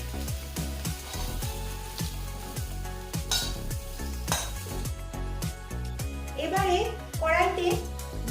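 Pieces of green jackfruit fry in a pan over a medium gas flame, giving a continuous sizzle under music, with a few utensil clinks and stirring scrapes.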